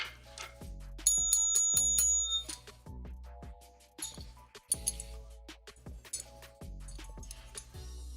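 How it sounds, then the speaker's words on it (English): A sticky, poorly working bell is struck repeatedly in uneven bursts, each ring a bright metallic ding with clinks and a short ring-out, close by with no voices. "How do you fix a bell?"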